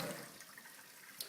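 Water splashing and rushing as soaked beans are drained, a short steady pour of liquid close by with no voices.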